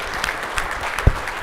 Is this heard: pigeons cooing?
no